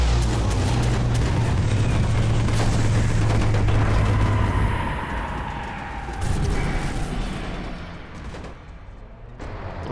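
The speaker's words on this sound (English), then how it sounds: "Bombs." Bomb explosions in the Watch Dogs video game: loud, dense booming blasts and crackling detonations fill the first half, then fade into a lower rumbling tail, with no talk over them.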